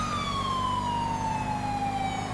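A video game police siren wails steadily, its pitch sliding slowly downward over a constant low engine rumble, loud and close, with no talking.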